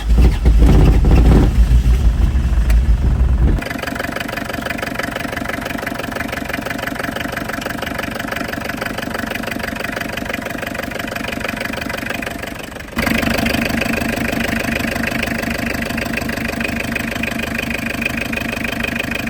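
An abandoned 1982 Chevy LUV diesel left sitting over fifteen years cranks loudly for a few seconds, then settles into a steady, clattering idle that briefly steps up louder near the end.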